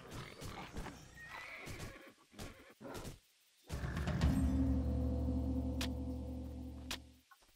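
A horse whinnies loudly in the video game Titan Quest, with clip-clop hoofbeats and clicks at the start before a long, sustained neigh fills the rest.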